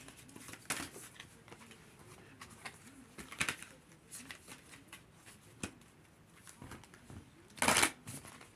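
Tarot cards are shuffled in quiet, faint riffling bursts scattered across the stretch, with a few louder sharp flutters and soft background sounds.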